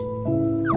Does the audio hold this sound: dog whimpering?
yes